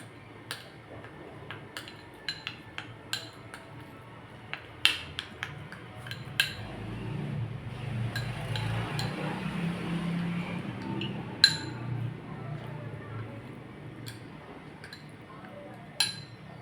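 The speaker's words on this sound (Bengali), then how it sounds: "এই যে এবার মিক্সড করব।" A face pack is mixed in a small bowl, sharp scattered ticks and clinks of a spoon against the bowl sounding up close, with a soft smoother swirl in the middle and quiet room noise behind.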